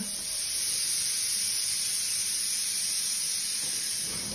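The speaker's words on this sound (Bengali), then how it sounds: "বয়েল করার জন্য প্রেসার কুকারে দিয়ে দিলাম।" Pressure cooker boiling potatoes and eggs, giving off a continuous loud hiss of escaping steam that holds steady throughout, close by.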